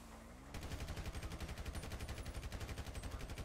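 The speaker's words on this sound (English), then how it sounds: "I'm trying to shoot his tires out" Rapid automatic gunfire in GTA 5, a dense unbroken burst of loud close shots aimed at a vehicle's tires, starting after a short quiet lead-in and rattling on steadily.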